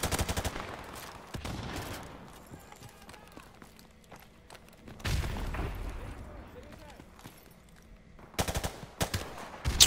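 Gunshots ring out in a Call of Duty: Modern Warfare Remastered multiplayer match, sharp loud bursts at the start, middle and end between quieter footsteps and movement.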